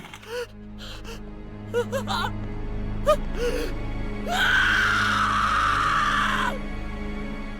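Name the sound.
voice actors screaming in the video game Corpse Party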